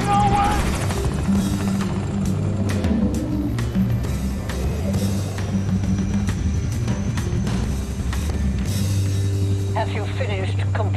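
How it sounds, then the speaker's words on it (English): A stolen helicopter in the video game Wolfenstein: The New Order churns with a steady rotor and engine drone, joined by clanks and bursts of effects while voices talk over it. "Okay, we successfully stole their helicopter."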